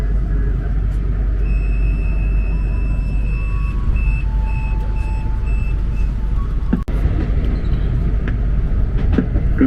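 A KRL INKA commuter train arrives at Manggarai station, a loud steady rumble inside the carriage with repeated electronic beeps and a brief sharp clunk near the end.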